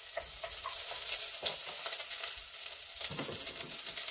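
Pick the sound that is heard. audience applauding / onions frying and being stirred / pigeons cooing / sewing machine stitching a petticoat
onions frying and being stirred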